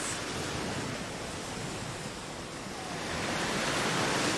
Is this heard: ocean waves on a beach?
yes